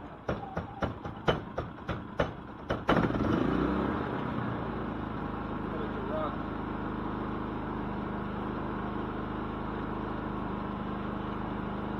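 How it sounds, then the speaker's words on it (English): A small portable generator engine with a choke setting, used in winter preparation: several sharp pull-start bursts, then the engine catches and settles into a steady, loud running drone close by, with no talking. "with a generator, you don't want to just start it up and let it run"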